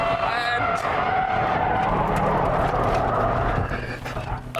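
A car slides through a corner at speed with a rally-style flick, its tires squealing and the engine roaring steadily and loudly before easing off near the end.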